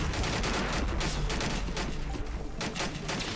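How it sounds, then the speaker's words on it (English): Rifles crackle in the video game Army Men of War, a dense, continuous volley of overlapping shots at moderate distance with no break in the firing. "Shooting their rifles."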